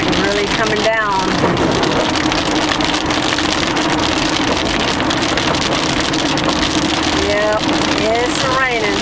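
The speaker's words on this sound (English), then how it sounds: "It's raining." Heavy rain pours down at night in a dense, loud, constant roar, with brief whistling chirps near the start and end.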